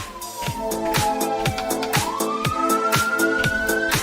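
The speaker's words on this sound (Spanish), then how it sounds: "sirena de policía" A police car siren sound effect wails in a rising and falling tone over a regular thumping beat, loud and close, with no talking.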